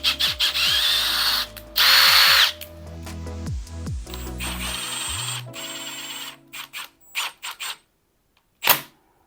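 A power drill cleans out the mirror mount threads on a Honda CG125 café racer motorcycle in short, close whirring bursts that rise and fall in pitch, with gaps and clicks between runs.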